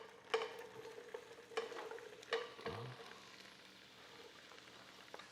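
Onions, carrot and celery sauté in olive oil in a pot for beef barley and beer soup, a quiet crackling sizzle broken by a few sharp stirring clacks and scrapes near the start, then softer frying alone.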